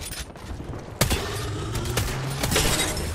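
Video game gunfire rattles in rapid, fairly loud bursts, with a sharp crack near the start and a dense, noisy barrage continuing to the end.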